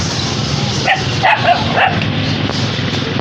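Several dog barks and yips ring out over steady background noise, a few sharp calls clustered in the middle, fairly close.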